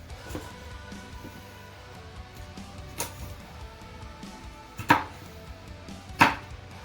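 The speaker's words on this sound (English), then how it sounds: "I just love chopping carrots." Carrots being chopped with a knife on a cutting board in a home kitchen while olive oil heats in a pan, a few sparse, sharp, close knocks with quiet gaps between them.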